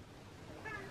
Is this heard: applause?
no